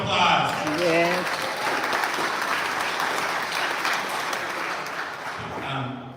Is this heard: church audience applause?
yes